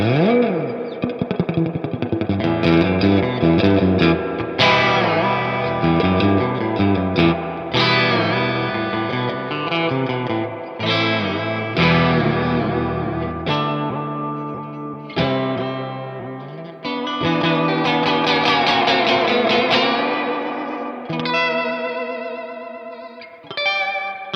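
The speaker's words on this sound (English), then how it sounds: "I need to bump up the reverb on that and see if it will surf" A PRS CE24 SE electric guitar plays chords and melody drenched in heavy reverb, with a wet, echoing surf-style tone, playing continuously and loudly throughout.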